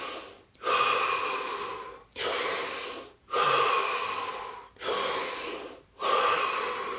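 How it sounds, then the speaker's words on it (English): Five slow, deep breaths in a guided breathing exercise, each a long airy inhale or exhale separated by short silent gaps, close and steady in rhythm. "Now take 5 deep, deep breaths"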